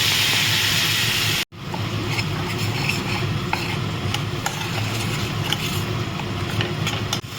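Spice paste with onion, ginger and garlic, loosened with a splash of water, sizzling in a pan for a fig curry, a dense continuous sizzle with repeated scraping stirs after a brief gap near the start.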